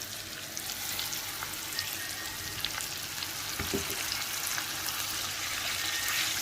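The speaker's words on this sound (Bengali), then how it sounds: "পেঁয়াজ আর মশলার সাথে চিংড়িগুলোকে নেড়ে ফেড়ে একটু ভালো করে কষিয়ে নিতে হবে।" Small shrimp fry with onion and spices in a pan, giving a steady, close sizzle with faint scraping from stirring throughout.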